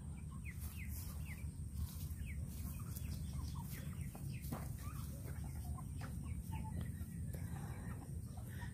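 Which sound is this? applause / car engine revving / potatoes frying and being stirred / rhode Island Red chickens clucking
rhode Island Red chickens clucking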